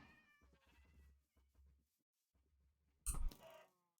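Cats meow in a Minecraft village, with soft mewing early on and then a louder, clearer meow near the end, set against quiet game background sounds.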